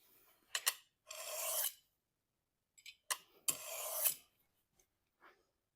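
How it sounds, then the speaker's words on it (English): The lever cap of a Stanley No. 37 jack plane is honed on a diamond stone, giving short rasping scrape strokes in two clusters with pauses between, close and fairly loud. "we're just going to hone this thing down again on my diamond stone"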